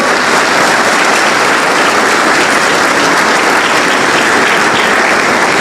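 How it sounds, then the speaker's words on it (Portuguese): A church congregation applauds, a dense, loud, continuous roar of many hands clapping that holds steady from start to finish. "Pode aplaudir a Jesus."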